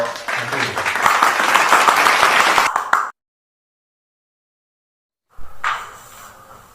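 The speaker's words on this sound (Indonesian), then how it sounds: "Kita beri tepuk tangan untuk kelompok 1." A training class in Yogyakarta gives a loud burst of applause for a group that lasts about three seconds and then cuts off to silence, followed by a short, fainter rustle of sound.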